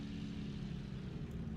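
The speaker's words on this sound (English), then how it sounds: "Now we have some engine sound." A P-51 Mustang's piston engine runs steadily in a flight simulator with a low, even drone and strong bass, fairly quiet and continuous without breaks.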